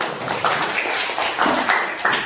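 A primary school class claps hands in several bursts, rhythmic and fairly loud, filling the whole stretch with no talking.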